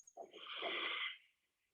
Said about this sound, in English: breathe out through your nose forever and a day until you feel there is no breath left and you're almost gasping for air